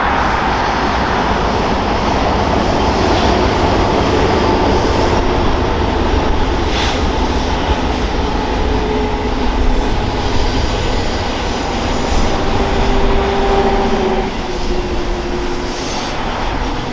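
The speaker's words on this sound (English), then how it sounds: "one more shot of a train coming out of the tunnel" A BNSF freight train rumbles loudly out of a tunnel on Marias Pass, a continuous heavy roar of engines and rolling cars. The sound is steady and close, with faint squeals rising toward the end and no voices.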